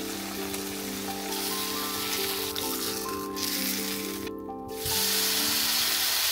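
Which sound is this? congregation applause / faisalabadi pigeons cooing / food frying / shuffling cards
food frying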